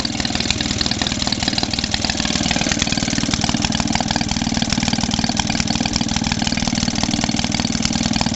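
A Maytag Model 72D washing machine engine runs steadily on its own, a loud, fast, even putter with a rapid firing rhythm that holds throughout without any talk.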